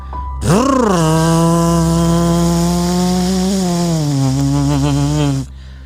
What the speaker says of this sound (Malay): gergaji memotong pokok yang menggunakan kuasa minyak